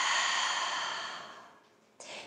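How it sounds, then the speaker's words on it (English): A long, breathy exhale through the mouth during a guided yoga flow, loud at first and tapering off over about a second and a half, followed by the start of a fresh inhale. "take a nice audible exhale out through the mouth"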